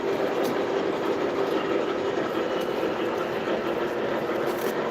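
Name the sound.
SW8 switcher locomotive on the Reading and Northern railroad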